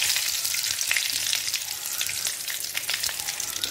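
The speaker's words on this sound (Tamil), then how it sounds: "கடுகு பொரிஞ்சிருச்சு. இப்போ கருவேப்பிலை கொஞ்சமாக பெருங்காயத்து." Curry leaves and asafoetida crackle and sizzle in hot oil over mustard seeds that have already popped, for rasam. The frying is steady and close, with dense bright hiss and scattered sharp pops all the way through, and no voices.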